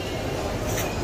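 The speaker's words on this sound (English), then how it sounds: "Look at the train." A toy train runs on a Christmas display inside a busy warehouse store, giving a steady, faint mechanical rumble and clatter blended into constant shop background noise.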